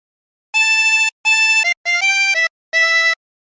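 A harmonica plays a short phrase of the sea shanty Wellerman without note bends: four clean, close groups of held and stepping notes separated by brief silences.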